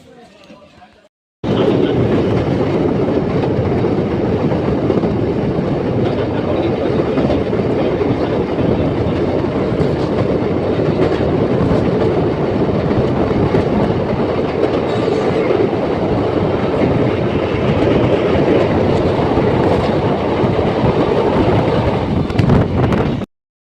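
A train rolls loudly and steadily across a bridge at close range, continuous rumble and rail clatter with heavy wind buffeting the microphone, starting abruptly after a brief quieter moment.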